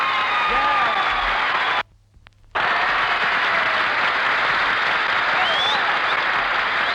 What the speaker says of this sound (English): Oh, Jackson, listen to that applause.